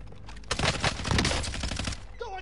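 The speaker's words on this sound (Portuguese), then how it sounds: "Estão atirando em mim." Gunfire in the video game Call of Duty Modern Warfare on PS4, a dense, loud burst of rapid automatic shots lasting about a second and a half, with a faint voice at the end.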